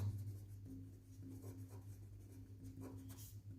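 Pen or pencil strokes scratch across paper as a math solution for a class 8 square-and-square-roots exercise is written out, soft rhythmic scribbling close by over a low steady hum, with no voice.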